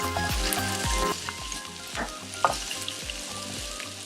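Vegetables and zucchini sizzling and frying in a wok over high heat, a loud continuous crackle with rhythmic scraping and tossing strokes of a utensil against the metal, and no voices.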